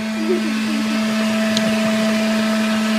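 Electric mixer whipping cream into homemade butter, a steady close motor whine with a constant pitch, beaters faintly churning thickening cream throughout.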